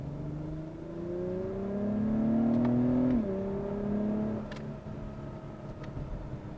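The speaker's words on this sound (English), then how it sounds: "you already hear the pops, you already hear the exhaust from the back" A 2021 Acura TLX Type S engine revs up steadily, its pitch rising and then dropping, followed by a few faint crackling pops from the exhaust.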